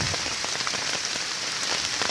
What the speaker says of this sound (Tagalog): parang ayaw tumigil na itong ulan na to